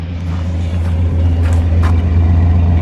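The engine of a 1969 Plymouth Fury III, a Chrysler C-body four-door hardtop with a small-block V8, idles nearby with a steady, loud low rumble and faint higher hiss.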